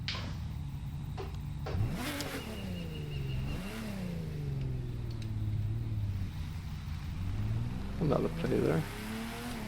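A car drives through an open-world video game, its engine droning low and steady with a few revving swells, while a person talks over it.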